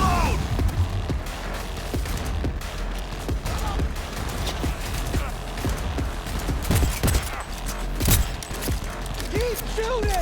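Cyberpunk 2077 firefight: dense, loud gunfire of rapid bursts and scattered single shots with booming impacts, running throughout under shouted voices.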